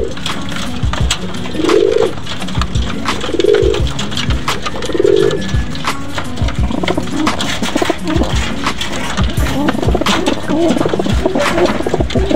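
Breeder pigeons feeding their newly hatched chicks: repeated soft cooing calls rise over a busy background of pecking, shuffling and fluttering in the loft, with no talking.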